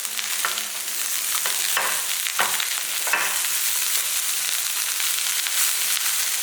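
Coconut thuvaiyal ingredients sautéing in a pan, a steady close sizzle with occasional scraping stirs of a spatula over the hiss.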